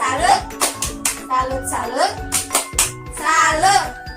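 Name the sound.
women clapping a 'tepuk salut' clap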